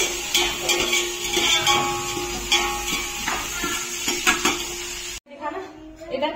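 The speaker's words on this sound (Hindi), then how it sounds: "इधर मैंने तड़के में डाल दिए प्याज" Onions frying in a hot tadka for kadhi in a home kitchen, a steady loud sizzle with occasional clinks and stirring scrapes of a utensil against the pan, cutting off briefly near the end.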